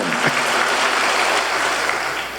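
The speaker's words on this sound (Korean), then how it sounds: "우리 박수 한번 쳐주세요" A church congregation claps after a special song at a Korean Sunday worship service, a dense, steady wash of applause filling the room for a couple of seconds with no voices over it.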